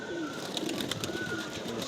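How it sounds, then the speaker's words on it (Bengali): Pigeons at a rooftop loft in hot weather, bathing in water, with soft low cooing and fluttering heard faintly against a steady background hiss. "কবুতরগুলো গোসল করতেছে"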